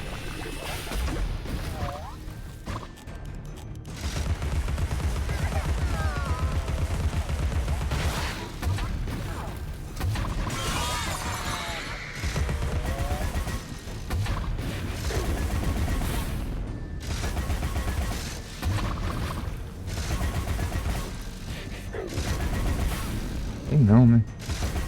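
Rapid gunfire and mechanical clatter in the video game Alice: Madness Returns, with bursts of shots over a dense, continuous game soundscape, joined by a player talking.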